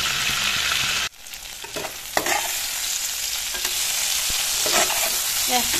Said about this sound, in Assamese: ভিন্দিখিনি ফ্ৰাই হৈ গ'ল অলপ অলপ ফ্ৰাই কৰিছোঁ